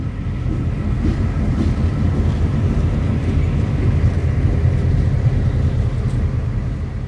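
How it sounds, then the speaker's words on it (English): A steady, loud rumble of an Amtrak passenger train with Santa Fe locomotives and steam-heated heritage cars rolling by, constant low roar with faint rail clatter throughout, no pauses. "This is an Amtrak train, even if the power was pure Santa Fe."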